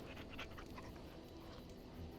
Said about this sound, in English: Pet the dog, Pinor